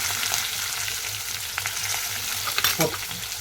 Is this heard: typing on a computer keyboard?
no